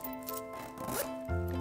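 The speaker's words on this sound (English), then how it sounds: "zip it up." A fabric wallet's zipper is drawn closed in one quick continuous pull, close and clear, with no talking over it.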